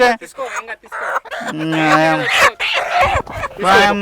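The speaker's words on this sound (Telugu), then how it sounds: "ఇంకా 2 కోళ్ళు తెచ్చి కొమరక్కకి ఇస్తాను సార్" Chickens cluck close by, with several short, throaty calls mixed into people talking.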